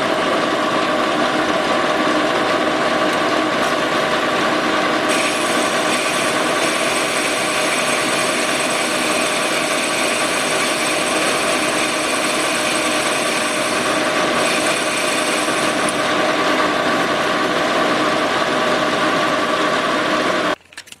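A power tool cuts away material on a Willys Dana 18 transfer case, a loud steady whining grind that runs continuously for about twenty seconds before stopping abruptly.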